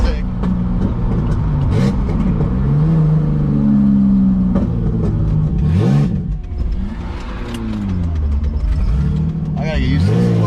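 Turbocharged M20 engine in a BMW E30 revving hard on the road, loud throaty rises and falls in pitch as it accelerates and shifts, with a voice talking briefly over the engine noise.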